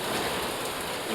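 Heavy monsoon rain pouring down in Kerala, a dense, steady roar of drops on surfaces filling the whole moment with no break and no voices.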